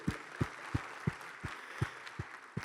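A seminar audience applauds under a steady, evenly spaced low thumping beat, the clapping sounding diffuse and fairly quiet in the room.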